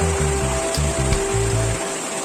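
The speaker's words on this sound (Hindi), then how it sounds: "देखिए कैसे पानी ऊपर से गिर रहा है" Small waterfall near the Arunachal border, water falling from above in a steady close rush, with a low pulsing hum running underneath.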